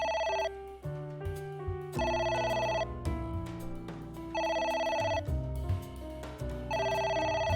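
Telephone ringing in the video game AI: The Somnium Files, an electronic ring repeating in steady bursts with short gaps, loud and close over a low musical underscore.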